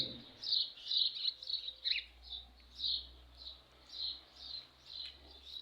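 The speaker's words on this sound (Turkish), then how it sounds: "Kuşlar da Sabah şarkılarına çoktan başladılar." Several birds sing in a morning garden with bougainvillea and jasmine, bright chirps and trills repeating in steady bursts, fairly near and moderately clear over a low, quiet background hum.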